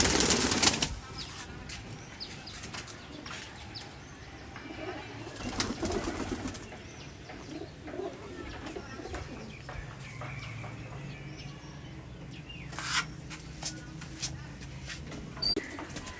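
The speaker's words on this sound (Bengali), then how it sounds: "জোড়াটা ছেড়ে দিয়ে দেখাচ্ছি দেখুন" Wings of a released pair of Kamagar pigeons flap in short bursts, with scattered cooing and general loft noise in the background.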